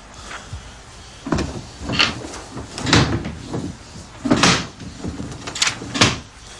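In a movie scene, a drawer is slid open and shut several times, with a series of dull wooden thumps and scrapes at moderate volume.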